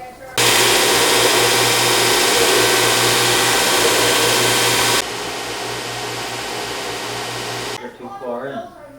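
A big angle grinder roars steadily at close range for several seconds while building a portable camping grill, then drops to a slightly lower pitch before cutting off, with a voice briefly talking at the end.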